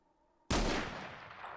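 A single loud gunshot in the shooter game Where Eagles Dare, a sudden sharp crack after near silence that rings out and decays slowly.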